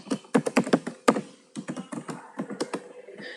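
Typing on a computer keyboard: a close run of crisp, uneven key taps with a few heavier thunks, pausing briefly midway, heard alone without voices.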